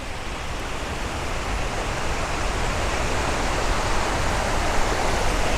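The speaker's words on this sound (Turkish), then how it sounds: "Burada irili ufaklı her boydan şelale var." Steady, full-bodied roar of several waterfalls of varying sizes near the Muradiye district, a dense broadband rush that holds even and continuous throughout with no voices.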